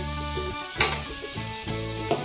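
Onions fry gently in a pan, a continuous close sizzle with a couple of brief scrapes and clinks from stirring, steady and uninterrupted, with no voices over it.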